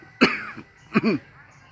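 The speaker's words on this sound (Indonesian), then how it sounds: "Batuk teman-teman" Two short, sharp coughs from a person, close and fairly loud, about a second apart, the second one rougher with a throaty tail, in an outdoor farm plot.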